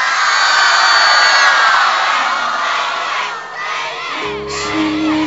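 A concert crowd cheers and shouts loudly for a Beijing pop singer as she is introduced, a dense sustained roar that dips briefly before swelling again, with a musical tone entering near the end.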